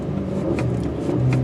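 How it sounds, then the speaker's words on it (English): A 2014 Volkswagen CC R-Line with a turbocharged engine revved lightly to about 3,000 RPM before a track launch, a steady close engine drone that swells slightly. "I'm going to rev it just a little bit."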